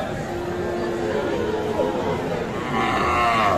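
Cattle low and moo amid the steady crowd noise of a busy livestock market selling Sahiwal bulls and calves, with a louder, sustained call near the end.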